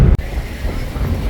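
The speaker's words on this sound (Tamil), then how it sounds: "ஐயோ பயங்கர காற்று" Strong, loud wind buffets the microphone outdoors in Tamil Nadu after a shopping trip, a constant low roaring rumble that fills the whole moment with no voices.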